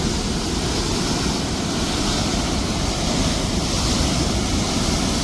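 Water gushing from opened reservoir sluice gates at Muthaiyankattu tank, a dense, loud, unbroken roar filling the whole clip with no talk.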